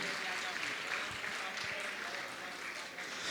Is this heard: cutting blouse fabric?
no